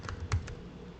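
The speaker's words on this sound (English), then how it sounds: "I'm just going to type in market cap." A few quick taps on a computer keyboard, close and faint, form a short burst of typing with no voices.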